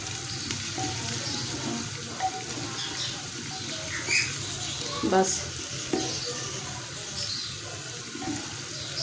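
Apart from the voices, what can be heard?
frying spices with garlic and ginger in hot ghee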